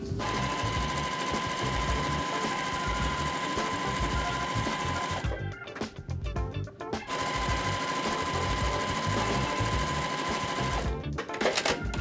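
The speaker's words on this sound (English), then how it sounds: "I'm going to sew 1/4 inch seam on both sides." A sewing machine runs a quarter-inch seam along both sides of quilting fabric for half-square triangles, a steady loud whirring motor hum that stops briefly twice before resuming, with no talking.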